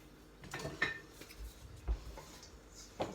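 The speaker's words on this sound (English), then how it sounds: "I'll also give this a quick stir" A spoon stirring a melting brown sugar mixture in a pot: soft scattered clinks and scrapes of utensil against cookware, quiet and close.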